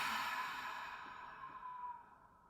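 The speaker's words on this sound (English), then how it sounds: "We're breathing out for 6, we're releasing." A single long, soft exhale during a paced breathing exercise, quiet and close, tapering off into silence.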